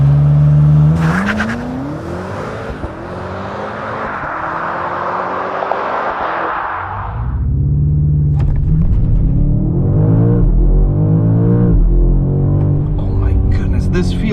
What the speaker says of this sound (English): We're just pulling from 2 to 4000 RPM